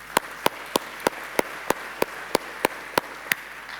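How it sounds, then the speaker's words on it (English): A single person at a water reform conference clapping slowly and steadily, about a dozen evenly spaced distinct claps over a quiet room background. "A big round of applause,"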